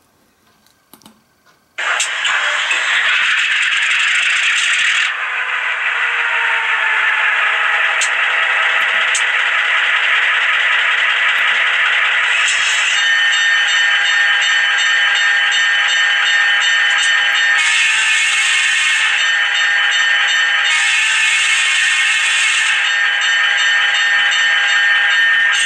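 Atlas BN 1391 model locomotive with a LokSound decoder starting up after a sudden onset, then a steady, loud synthesized diesel engine drone with bell-like ringing and periodic shifts in tone, continuous throughout with no talking.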